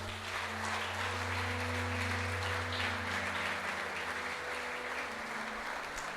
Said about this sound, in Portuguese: Quantos pensam assim, aplaude a Jesus.